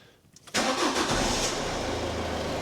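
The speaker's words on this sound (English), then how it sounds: "So when you start up the car, don't need to rev it." A 2009 Citroen C3 1.4 diesel cranks briefly and fires up just after an oil and filter change, settling straight into a steady, close idle without revving.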